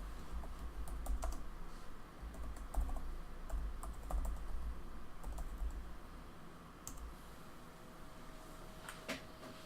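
A computer keyboard is typed on in quick, uneven bursts of soft clicks, close but faint, with no voices.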